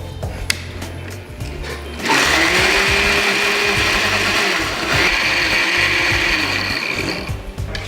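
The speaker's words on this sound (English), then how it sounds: "now you just press the button and you blend it all" A blender whirs loudly and steadily as it blends an agave-sweetened cream filling, starting up after a couple of seconds of quieter mechanical noise and running continuously to the end.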